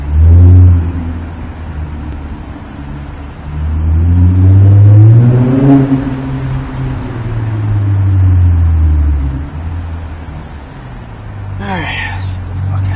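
A Nissan Altima V6 fitted with a new Greddy exhaust revs up and down in several rising and falling pulls, a deep loud drone with a few brief high sounds near the end.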